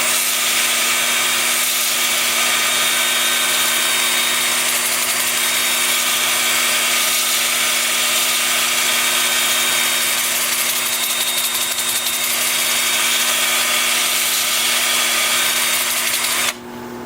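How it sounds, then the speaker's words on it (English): A wood lathe spins forward at about 350 rpm while turning wood, giving a loud, continuous whirring drone with a steady pitch and a constant scraping hiss throughout. Near the very end it suddenly drops off. "Then with the lathe spinning forward at about 350."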